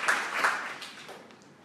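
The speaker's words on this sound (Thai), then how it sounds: "เอ้าปรบมือพี่ก็หน่อยเก่งมากเลย" Brief, fairly quiet clapping from a seminar audience on sales and marketing, a few bursts of hands at the start that thin out and fade within a second or so.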